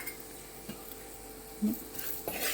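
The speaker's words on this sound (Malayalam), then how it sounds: "ചെറുതായിട്ട് അത് ഇളക്കുക." Kashmiri chili powder stirred in a pan for potato curry, quiet low scraping and a few light clinks of a utensil against the pan under a soft sizzle.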